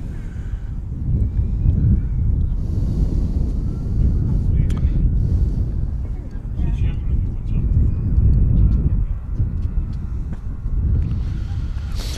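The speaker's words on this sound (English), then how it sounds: "EasyJet A320 to Geneva now rolling" An EasyJet Airbus A320 rolls for takeoff at Manchester Airport, its jet engines a broad, low roar from a distance, blended with wind buffeting the microphone.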